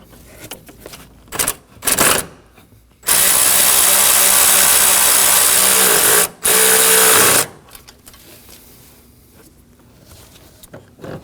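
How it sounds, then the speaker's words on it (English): A power tool, likely an impact driver or ratchet, buzzes loudly and steadily for about four seconds removing a 10mm bolt from an engine mount bracket on a 2016-2022 Honda Pilot 3.5L V6, with short bursts before and a brief gap mid-run. "We'll go ahead and remove this 10mm bolt, holding this bracket to the other bracket."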